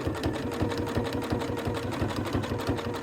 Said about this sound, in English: let's just do a simple zigzag stitch for now.